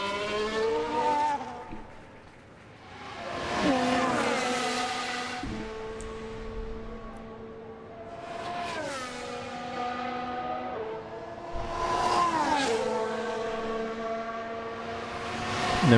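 Formula 1 car engines lapping the Melbourne track in the racing game F1 Manager 2023, high revving whines rising and falling as cars pass by one after another, fairly loud with no talk.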